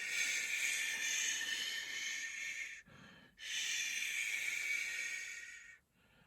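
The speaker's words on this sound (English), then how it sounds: "Maybe some breathing out on a unvoiced consonant" Two long, steady unvoiced breaths pushed out through a hissy consonant during a tenor singing warm-up, each several seconds long, close and fairly loud, separated by a brief quiet inhale.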